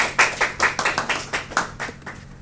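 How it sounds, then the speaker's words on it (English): A brief round of applause at a demo session on granting MTurk qualifications, a handful of distinct close hand claps in quick succession, fading out after about two seconds with no talk. "Can we please have a round of applause?"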